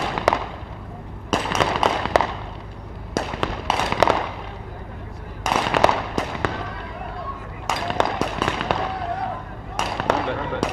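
Sharp gunshots ring out in repeated bursts at a SWAT shooting challenge, each followed by a short echoing tail, while a commentator's voice talks over much of the sequence.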